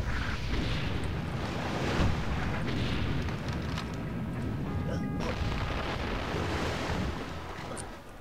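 Missiles exploding in the video game Conker's Bad Fur Day, a dense, continuous roar of blasts and booms lasting throughout without pause, loud and close, with scattered crackling bursts layered over the rumble.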